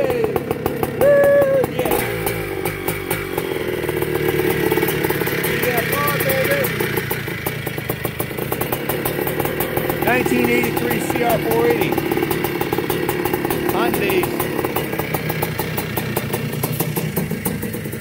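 Honda motocross motorcycles, including a 1979 XR250 under restoration, idle and rev at a track event, a steady mid-pitched engine drone running throughout with voices talking over it.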